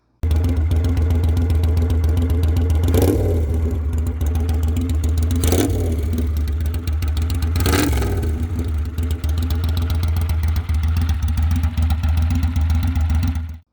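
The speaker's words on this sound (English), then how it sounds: "So that's where this cool X-pipe exhaust comes in. This thing sounds awesome." A motorcycle with a custom X-pipe exhaust idles with a deep, steady rumble close by, punctuated by three quick throttle blips that rise and fall sharply; no talking.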